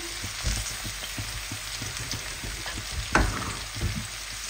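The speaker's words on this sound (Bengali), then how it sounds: "এই মাছ ভাজার তেলের ভিতরে আমি বেগুন আর আলু দিয়ে দিলাম, সাথে কাঁচামরিচ, পেঁয়াজ সব দিয়ে দিচ্ছি" Eggplant, potato, green chili and onion fry in leftover fish-frying oil, giving a steady close crackling sizzle with occasional stirring knocks and a sharper clatter near the end, no voices.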